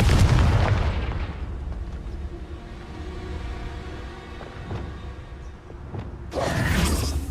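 Confringo blasting spell in Hogwarts Legacy, a loud booming burst at the start that fades into a rumbling tail, followed by another sharp crackling blast near the end.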